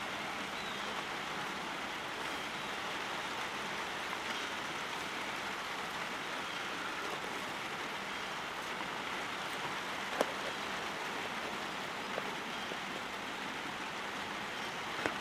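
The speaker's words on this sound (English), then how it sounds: "It started raining, but I've got a roof." Rain falls on a roof overhead in a constant, even hiss with a few faint drip ticks. It continues without a break and no one speaks.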